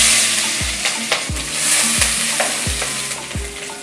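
Onion, bay leaf, cardamom and cloves sizzle in hot oil while a spoon stirs and scrapes the pan in regular strokes, with a constant loud frying hiss for a homemade veg biryani with jackfruit.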